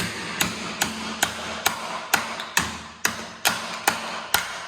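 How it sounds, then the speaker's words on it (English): A hammer knocks out wooden blocks between saw kerfs to cut half lap joints in beams for batting cages, about ten sharp, evenly spaced blows, each ringing briefly, close and loud. "You can take a hammer out"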